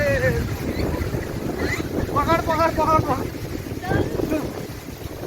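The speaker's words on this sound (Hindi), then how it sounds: "भारी हवा कर रहा है, बहुत आंधी तूफान है गाइस, हद से ज्यादा" Strong storm wind buffets the microphone in loud, gusting rumbles and roars, while people shout and talk over it.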